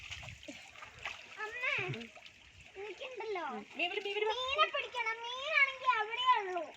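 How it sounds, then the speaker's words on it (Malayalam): Family members splash river water upward at a riverside in Wayanad, with brief watery splashes under lively children's and adults' voices talking and calling out throughout. "എല്ലാരും വെള്ളം ഇങ്ങനെ ഇങ്ങനെ തെറിപ്പിച്ചേ മേലേക്ക്."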